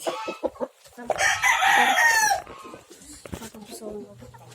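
A rooster crows loudly and close by in one long, rising call, with a few short clucks and noises before and after.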